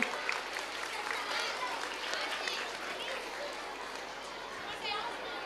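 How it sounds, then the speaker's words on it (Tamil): Parents applaud children at a mental math abacus event, a soft, dense patter of clapping mixed with children's chatter and voices. "பெற்றோர்கள் அனைவரும் கைத்தட்டி உற்சாகப்படுத்தலாம் குழந்தைகளை"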